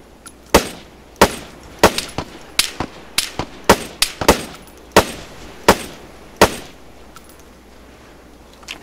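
Gunfire in the video game ArmA 3: sharp, cracking shots ring out at irregular intervals, some single and some in quick pairs. Roughly fifteen loud reports sit over a steady low background hum.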